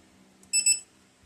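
A Cobalt digital torque wrench tightening a bolt on a Massimo MB200S 196cc engine emits one short, sharp electronic beep, close and clear against a quiet shop background.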